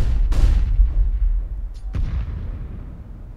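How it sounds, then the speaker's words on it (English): Flashbang grenade detonating in CS:GO, a sharp booming burst followed by a second loud pop about a second and a half later, set against steady low in-game rumble with no talk. "Deploying flashbang."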